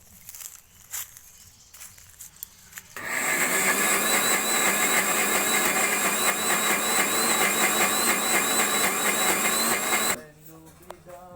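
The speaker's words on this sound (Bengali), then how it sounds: "অনেক ডাল সেই জন্যে আমরা মিক্সিতে একটু পেশাই করে নেব।" A mixer grinder grinding soaked lentils whirs loudly for about seven seconds after a quiet start, its motor whine steady and dense, then cuts off abruptly.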